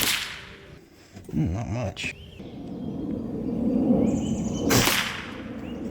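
An FX Airguns DRS tankless PCP air rifle fires a pellet from indoors, giving one sharp crack near the end, preceded by a short spoken remark and low room rumble.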